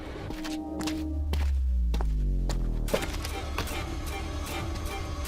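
Heavy hollow thuds and clumps of footsteps on an old, warped wooden ramp by a back door, loud and close, with splintery knocks and a deep rumbling undertone throughout.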